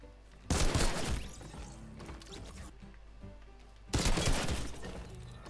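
Two loud bursts of rapid gunfire crackle in a zombie video game, each sharp blast fading into a rattling tail, with a quieter stretch between them.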